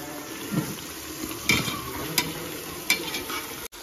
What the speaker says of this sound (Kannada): ಈರುಳ್ಳಿ, ಹಸಿಮೆಣಸಿನ್ಕಾಯಿ ಹಾಕಿ ಚೆನ್ನಾಗಿ ಫ್ರೈ ಮಾಡ್ಕೊಳ್ಳಿ.